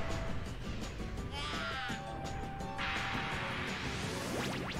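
A crow-like creature caws twice in the video game Billy Hatcher and the Giant Egg, two harsh, raspy calls heard faintly over game sound effects.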